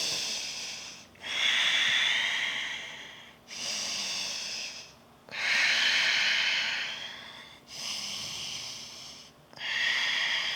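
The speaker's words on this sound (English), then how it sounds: "3 more breaths here." Slow, deep breaths drawn in and pushed out through the nose while holding a forearm yoga pose, loud and close, about six long alternating inhales and exhales with brief pauses between them and no talking.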